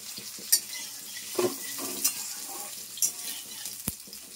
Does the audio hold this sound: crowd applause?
no